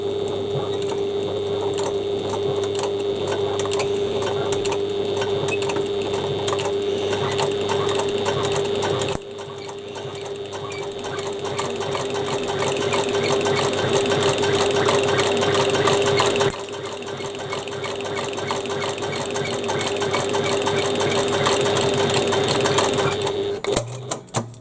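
A sewing machine fitted with a walking foot stitches a bag, running steadily and loudly with a continuous whirring drone that pauses briefly twice before resuming.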